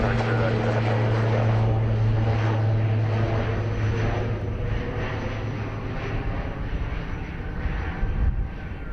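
Icelandair Boeing 737 Max 8 bound for Reykjavik at Dublin Airport, engines producing a steady, loud roar with a sustained low drone throughout.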